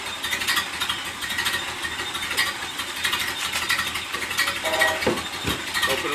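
A 1928 Ford Model A engine idles with a steady, rough mechanical chug close by, continuous throughout with a couple of faint knocks near the end.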